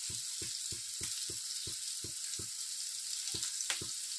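Sliced onion and four dried red chilies crackle and fry in hot oil in an Andhra kitchen, with steady close sizzling broken by regular soft stirring knocks and no voices.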